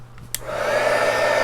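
A hair dryer blows steadily on alcohol ink, starting after a brief click and running as a loud, continuous whoosh close by with no talking.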